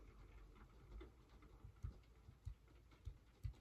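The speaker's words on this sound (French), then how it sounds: "c'est la pluie hein, que vous entendez" Rain patters softly and steadily, faint and close, with scattered louder drops ticking through a continuous hiss and no voices.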